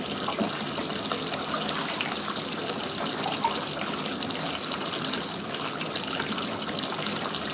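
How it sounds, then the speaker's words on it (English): Tap water runs steadily as it is being warmed up, a continuous gushing splash at moderate volume with no break and no voices. "I'm just trying to warm this water up a little bit more."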